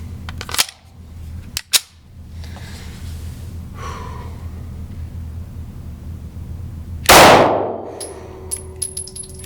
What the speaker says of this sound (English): I'm gonna put maybe 20 rounds through it and just see how it feels.